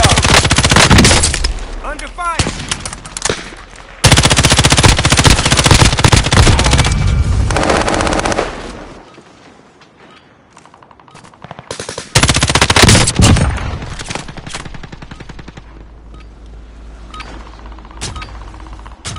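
Loud automatic gunfire in the video game Flypaper City the Continuum comes in long dense bursts with a quieter gap midway, punctuated by heavy impacts, with voices in the game mix.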